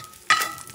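Scraping of a utensil across a cast iron pot while braising bison stew, a single abrasive burst starting abruptly and fading over the rest of the moment, close and fairly loud.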